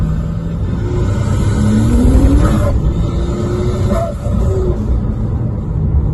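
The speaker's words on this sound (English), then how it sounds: "the boost sounds are really quite audible in the cabin" Loud engine rumble inside a Porsche Cayman 2.7 twin-turbo cabin, with rising whistling tones of turbo boost sweeping upward over the steady drone.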